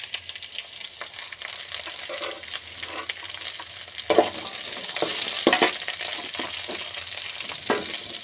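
Finely chopped broad beans (avarakkai) fry in a hot pan with a steady, close sizzle, broken by sharp scraping strokes of a spoon stirring through them.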